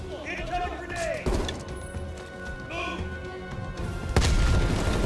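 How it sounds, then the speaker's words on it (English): A grenade goes off in the Call of Duty Black Ops Cold War campaign, a single heavy boom near the end that rises out of busy combat noise and shouted voices. "Incoming grenade."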